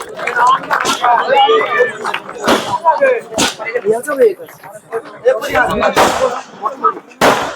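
Several sharp firecracker bangs burst at irregular moments over lively crowd chatter and voices, loud and close, at a village birthday celebration for a bull.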